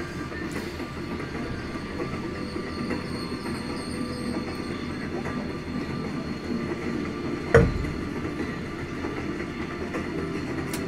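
Train running in The Walking Dead video game, a continuous rumbling roll of wheels on rails with faint high squeal tones and a single sharp clank partway through, steady and close.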